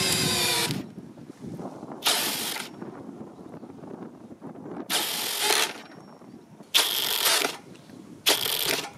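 A Parkside Performance 20 V brushless drill driver rated at 150 Nm drives a 20 cm long, 13 mm diameter lag screw in five loud, close bursts of whirring and ratcheting, separated by quiet pauses.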